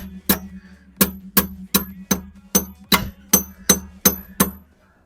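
Sharp hammer taps on sheet metal during bricklaying, struck one at a time in a steady rhythm, about a dozen blows, close by with a short ring after each.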